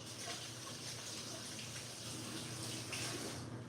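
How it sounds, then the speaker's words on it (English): Hands washed under a running kitchen tap, a steady close stream of water splashing continuously at low level with no talking. "get my hands a quick wash"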